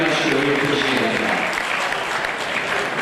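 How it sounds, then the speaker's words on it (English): Sustained audience applause at a charity art auction in a hotel ballroom, dense and steady clapping from a large crowd, loud and continuous throughout with faint voices mixed in. "Give them a big round of applause."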